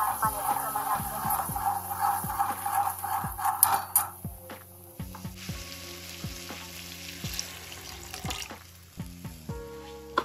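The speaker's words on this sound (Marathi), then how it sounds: "आणि जसं पाणी लागतं तसं टाकायचं." Water is poured into a cooking pan holding a mixture for a tur bean pod vegetable dish, splashing and sizzling close by with clinks of a utensil against the metal, the pouring fading after a few seconds and then continuing more quietly.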